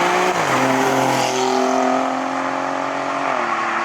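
A 2017 Alfa Romeo Giulia Quadrifoglio engine roars loud and close as it accelerates, the pitch climbing and then stepping down with quick gear shifts under sustained throttle.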